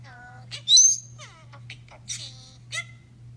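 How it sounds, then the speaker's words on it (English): A bird indoors calls in a string of short chirps and rising whistles, several separate bursts over a steady low electrical hum. "This is all a bird."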